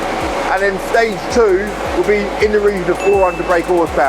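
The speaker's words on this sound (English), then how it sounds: "Excuse the noise of the fan, sorry about that." A large cooling fan runs with a steady broadband roar beside an Audi S3 on a dyno, while someone talks continuously over the noise.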